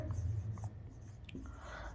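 Chalk or marker writing on a board during an electrician theory lesson, a short scratchy stroke or two heard close under a low background hum.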